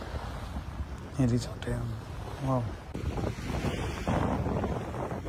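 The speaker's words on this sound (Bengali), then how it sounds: "কি পরিমাণ ঢেউয়ের স্পিড, বাতাস, সাগরের মিশ্র" Wind and rushing sea waves at a Maldives island resort form a constant roar, with a person talking over the surf for much of the time.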